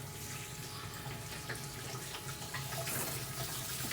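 Warm water runs steadily from a tap to wet hair before a wash, a constant soft splashing hiss that holds close and even for the whole stretch with no voices.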